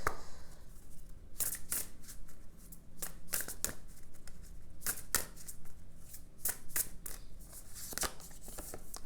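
Oracle cards are shuffled for a tarot reading, a run of crisp riffling and snapping bursts repeating irregularly at close range, with no talking over them.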